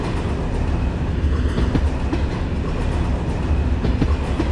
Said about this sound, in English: This is exactly the train I used to take in my childhood.